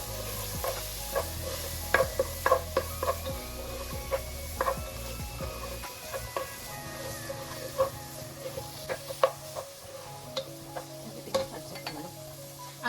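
Macaroni with tomato and carrot sautés in a pan, with a soft sizzle under sharp, irregular clicks and scrapes of a spoon stirring against the pan, fairly quiet and close.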